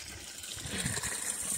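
Water gushing from a pipe into an icy, stagnant pond beside a trail, a continuous rushing splash, fairly close and steady throughout with no talking.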